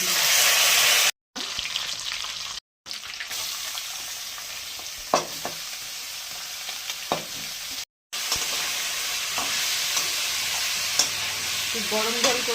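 Cardamom, bay leaf and ginger frying in hot oil for pulao, a steady bright sizzle with occasional stirring clicks and short breaks, close and fairly quiet.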